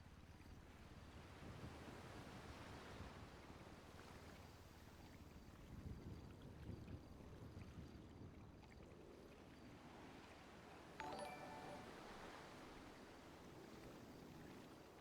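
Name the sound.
ocean waves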